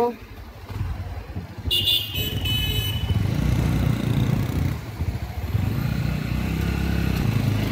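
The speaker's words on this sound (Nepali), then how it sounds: "हामीहरू 3टा बाइक मात्रै जाँदैछ रस्तामा" Steady rumble of motorbikes cruising along a road, with wind and engine drone throughout and a brief high horn-like tone early on; voices talk over it.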